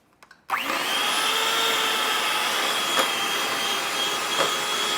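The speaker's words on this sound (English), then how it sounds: "now we are going to use a hand mixer to mix it" An electric hand mixer beats keto dough in a bowl, starting suddenly and then holding a loud, steady high-pitched whirring drone close by, with a couple of brief bumps against the bowl.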